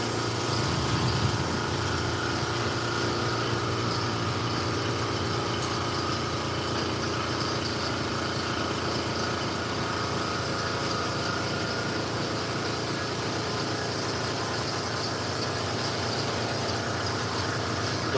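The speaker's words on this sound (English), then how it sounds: "I'm going to go start the air compressor" An air compressor runs steadily in a cluttered garage workshop, a continuous mechanical drone with a constant hum that holds at a moderate level throughout, no voices over it.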